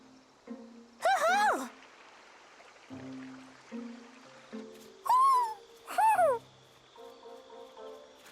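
Owl hooting in the game Tales of Arise, three sharp, fairly loud calls rising over a quiet ambient background of low tones and soft chirps, with no talk.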